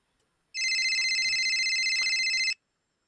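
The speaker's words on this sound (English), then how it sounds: "I thought my phone was ringing." A phone rings in a single continuous electronic trill lasting about two seconds, loud and close, starting and stopping abruptly against near silence.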